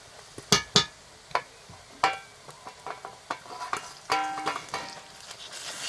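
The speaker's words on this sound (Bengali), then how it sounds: "রসুনটাকে ভেজে নিয়েছি এরপর আদাটা দিয়ে দেবো" Ginger tipped into a pan of frying garlic and onion and stirred, giving scattered clinks and scrapes of a utensil against the pan over a faint, quiet sizzle.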